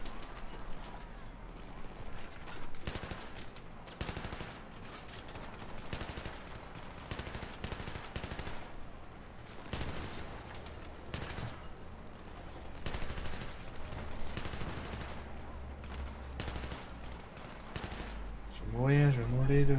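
Dense game gunfire from Battlefield 3, rapid automatic bursts and scattered shots crackling steadily at close range, with occasional talk over it.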